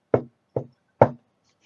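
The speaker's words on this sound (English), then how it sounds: "So he walks down and knocks on the door." Three sharp knocks on a door, evenly spaced about half a second apart, close and loud, with silence between and after.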